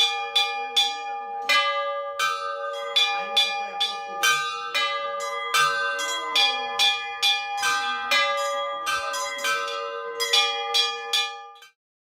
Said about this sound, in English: climb the bell tower and ring the bells